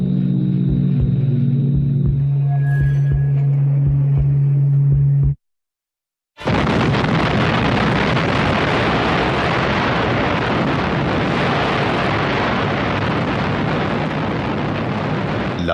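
The Little Boy atomic bomb detonates about 600 metres above Hiroshima: after a low droning lead-in and a moment of silence, a massive, sustained roaring blast erupts and rumbles on loudly without letup.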